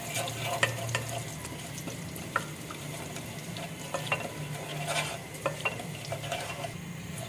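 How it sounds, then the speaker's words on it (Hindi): Cumin seeds fry in hot oil with a soft, steady sizzle, while a spoon scrapes and taps against the pan now and then. "ज़ीरे को मैंने थोड़ा फ्राई कर लिया है।"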